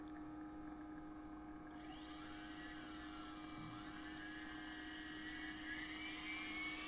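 Small turbine built from an old drone motor spins at high speed, giving a steady, whining mechanical hum with a faint rising pitch throughout, close and continuous, with no voices.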